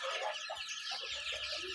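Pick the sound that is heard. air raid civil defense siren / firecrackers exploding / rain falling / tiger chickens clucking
tiger chickens clucking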